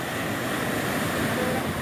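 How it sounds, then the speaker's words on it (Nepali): Sea waves wash against the shore in a steady broadband rush, close and fairly loud, mixed with wind noise and with no clear voices. "त्यो छलहरू रहेछ"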